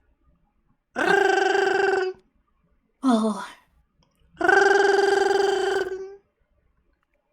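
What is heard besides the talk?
distant telephone ringing, sound effect in a tabletop role-playing session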